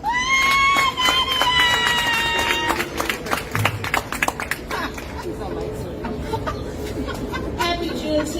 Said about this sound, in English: Everyone, give your applause to